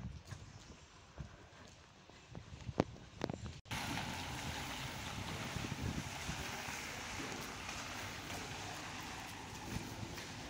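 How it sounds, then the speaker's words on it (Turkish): Rain falling outdoors in cool weather while someone walks without an umbrella: a few scattered knocks and steps, then an abrupt, steady, loud hiss of rainfall that continues to the end. "Hatta biraz hızlandı gibi yağmur."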